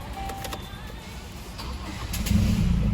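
A Toyota Hilux Revo pickup truck engine turns over and runs, rising in loudness near the end as it revs, with a low rumbling idle.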